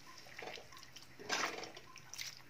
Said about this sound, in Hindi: अब इसमें हम पानी डालेंगे, पानी डाल के ये हमने ये देखिए पानी डाल दिया